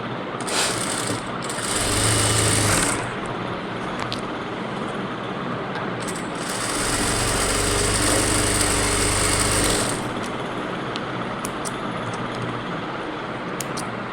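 An electric sewing machine stitches a blouse, running in two rapid, buzzing bursts of several seconds each, close and loud, with quieter pauses between them.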